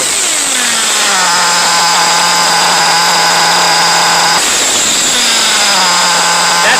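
A Kyosho MP9 TKI4 Spec A nitro RC buggy fitted with a modded .32 engine screams loud and close, holding a high steady whine, briefly dropping, then revving back up.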